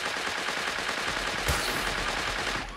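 Rapid gunfire from the video game Creative Destruction, a dense continuous burst of shots at close range with a sharp loud report midway, no talking.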